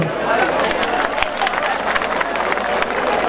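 Crowd at a live Punjabi mela show by Gurdas Maan applauds steadily, dense continuous clapping mixed with cheering and crowd murmur, fairly loud and sustained throughout.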